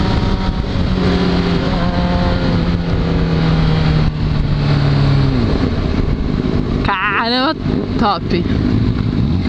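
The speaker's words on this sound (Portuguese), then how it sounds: "Tá bombando o acelerador" A Yamaha XJ6 motorcycle engine revs repeatedly, its rising and falling drone running loud and close throughout, with people talking and exclaiming over it.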